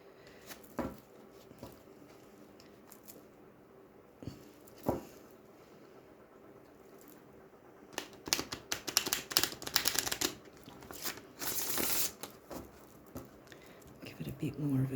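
A deck of tarot cards is shuffled: scattered soft taps and shuffles early on, then several seconds of dense, fast riffling and flicking.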